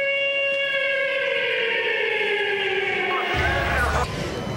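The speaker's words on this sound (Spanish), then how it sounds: "cada año suena la sirena en homenaje a las víctimas del atentado" Memorial siren for the victims of the AMIA bombing wails loud and steady with a slowly falling pitch, then drops off near the end into the rumble of street noise.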